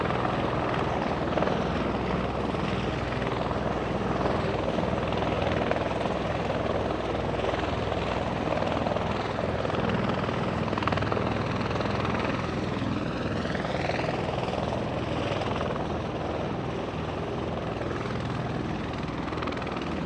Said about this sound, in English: So that helicopter that you are seeing on your screen, Marine One